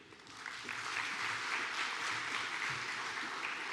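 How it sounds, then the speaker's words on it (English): Steady audience applause at the Jamaica Diaspora Conference awards, sounding as an even, sustained wash of many hands clapping from a moderate distance. "you could just keep the applause going for all the sponsors who've come on board for this very important event"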